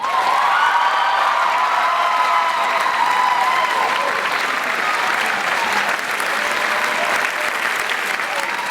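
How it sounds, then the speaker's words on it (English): A commencement crowd applauds the graduating class of 2015, loud continuous clapping from a large audience with some cheering mixed in, steady throughout with no pauses. "Ladies and gentlemen, a round of applause for the class of 2015."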